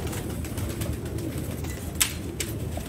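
Sialkoti pigeons cooing in a loft, soft low coos under a busy background with a couple of sharp brief clatters.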